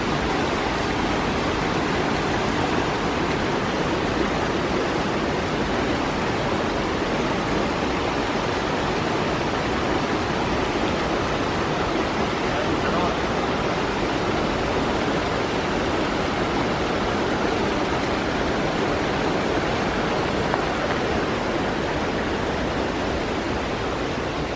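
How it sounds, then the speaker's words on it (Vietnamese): A small waterfall stream pours steadily outdoors, a dense, even hiss of flowing water that holds at the same loud level throughout with no talking. "Đấy, nước chảy rất nhẹ nhàng."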